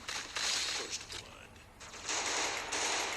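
Rapid bursts of automatic gunfire rattle in a shooting video game, two fast volleys separated by a brief lull, heard faintly at low level.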